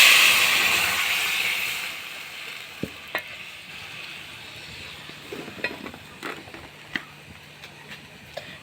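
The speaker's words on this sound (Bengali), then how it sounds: "রসুন সব দিয়ে এর মধ্যে ডালটি দিয়ে দিই।" Garlic, onion, dried chilli, five-spice and moong lentils sizzle steadily in a hot pan, with a loud hiss at first that settles, punctuated by scattered scrapes and clicks of stirring; no voices.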